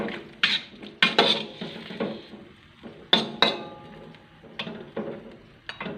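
A lid clatters onto a metal pot of chicken feet adobo with several sharp clanks and scrapes, close and fairly loud, set apart by short quiet gaps, with no talking.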